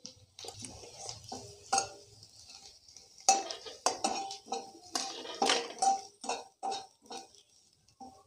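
Drumstick leaves frying with coconut chilli powder in a pan, heard as a run of close clinks and scrapes of a spoon stirring against the metal, with a faint sizzle underneath.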